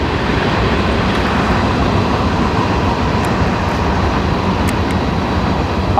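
Train rumbling past close by at a lakeside fishing spot, a loud continuous roar and clatter of wheels on rails holding steady throughout, with faint metallic squeals above.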